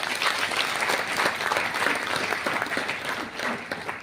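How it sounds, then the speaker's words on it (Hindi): A large audience in a seminar hall claps loudly and steadily, a dense, continuous wave of applause sustained without pause from start to finish. "एक बार जोरदार तालियां अपने लिए।"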